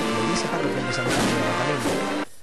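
Loud, dense bursts of explosive cracks and booms from exploding firework rockets during a religious brotherhood procession in Almería, Spain, crowded together with crowd applause and cheers, ending abruptly.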